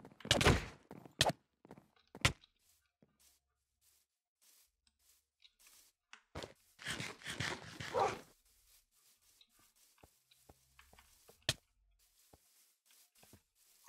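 A wolf attacks the player in Minecraft, giving several short, sharp bark-like yelps and thumps in scattered bursts, with a busier cluster of growling hits in the middle, all close and fairly quiet.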